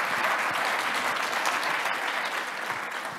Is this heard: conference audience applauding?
yes